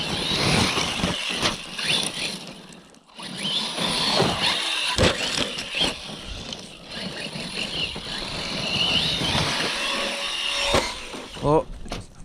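Corally Kronos XTR RC car buzzing as it drives, a steady electric motor whine with several sharp surges and bumps, continuous and close, with speech mixed in now and then.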